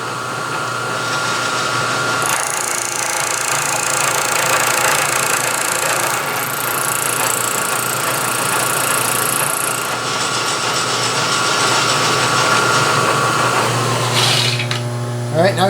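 A milling machine cuts the angled edge of steel stock, with a steady mechanical whir and a high grinding tone, continuous and fairly loud for the whole stretch.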